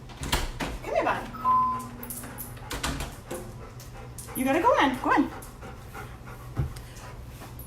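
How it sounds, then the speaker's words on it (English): A dog pants and whimpers nearby, its soft breathy sounds and whines mixing with a person talking and some shuffling and door noise. "let me get my dog"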